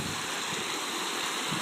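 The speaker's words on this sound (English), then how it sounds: "Over the waterfall and down the stream we go." Water spills steadily over a small waterfall in a restored swale stream, a continuous close, even rushing wash with no break across the short stretch.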